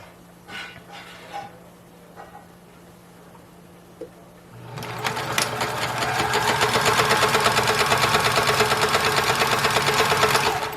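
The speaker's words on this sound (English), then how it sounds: "So we're just going to sew. And I do a back stitch at the beginning." A sewing machine stitches a seam on a bedsheet being made into a skirt, starting with a back stitch; after a few quiet handling sounds, the steady, fast motor whir starts near the mic and runs continuously and loud to the end.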